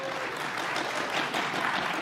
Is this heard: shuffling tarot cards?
no